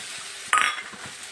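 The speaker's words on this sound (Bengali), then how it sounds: "এখন প্রথমে আমি দিয়ে দিচ্ছি, এগুলোকে একটু ভেজে নেব।" Mustard and poppy seed paste drops into a hot pan with a short metallic clatter and splat, then a faint low sizzle continues, close by and without talk.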